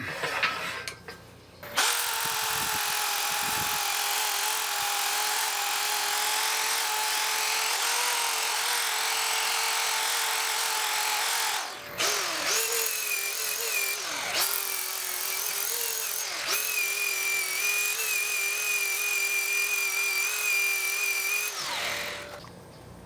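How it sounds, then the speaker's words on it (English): Abrasive sanding against a turned wooden vase spinning on a lathe, swan-necked and turned from a log, with a steady high whine from the motor and sandpaper hiss, briefly interrupted a few times, loud and close throughout. "Now I'm going to sand it."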